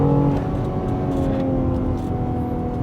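A BMW X3 M or X4 M Competition SUV engine accelerates under load, a steady, close, droning hum with rising tonal whine throughout, no speech over it.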